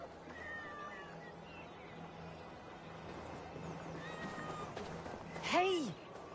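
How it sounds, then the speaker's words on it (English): A cat meowing in the video game Assassin's Creed Valhalla, with a couple of faint meows early and a louder rising-falling meow near the end, over ambient game sound and speech. "What a handsome cat."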